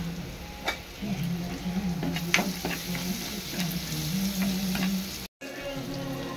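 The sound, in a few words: turmeric added to sizzling tempering oil for raw jackfruit curry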